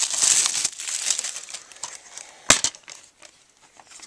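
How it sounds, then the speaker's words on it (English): Plastic shrink-wrap packaging on a DVD set being cut open and peeled away, close crinkling and crackling with a sharp tearing snap partway through, no talking. "Let me just go ahead and cut this open."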